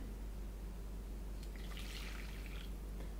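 Hot water pours into a measuring cup for brewery-style pizza dough, a soft trickling burst that rises midway and fades, faint over a steady low hum.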